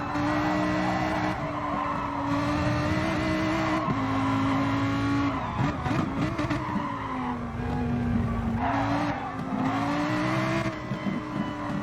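Ferrari race car in Gran Turismo Sport, its engine droning steadily at high revs while tires squeal and skid through corners, loud and continuous with pitch dipping and rising under braking and acceleration.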